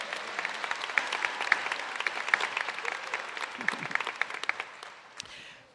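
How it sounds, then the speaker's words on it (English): A graduation audience claps for a speaker, a fairly quiet, moderately sized patter of hands with a few sharper nearby claps, continuing for several seconds and then thinning out. "Let's give Mr. LeGrand another applause for that great message"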